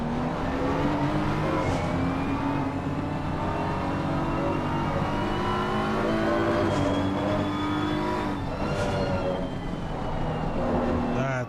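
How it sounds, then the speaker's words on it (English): A race car at the Misano circuit holds full throttle through a corner: a loud, continuous, high-pitched engine drone with a slowly rising pitch and no breaks, heard close and steady. "the driver is go full throttle through that little bit of a corner"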